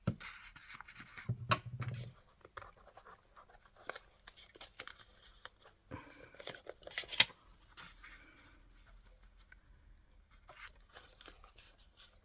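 Scissors snip through paper for a collage, with a run of quiet, close cuts and crisp rustles at uneven intervals and no talking.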